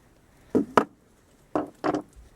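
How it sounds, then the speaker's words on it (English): Two pairs of sharp wire-cutter snips through wire, close and crisp, with a short pause between each pair; quiet otherwise. "now simply just take your wire cutter and then just cut"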